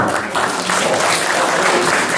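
A crowd applauds steadily at an academic jubilee celebration for a professor, a continuous dense wash of clapping hands filling the room at full volume.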